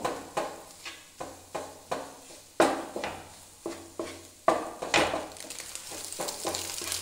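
Egg masala stuffing sautéed in a pan, with a spoon scraping and knocking in regular strokes over a soft sizzle, close by and without talking.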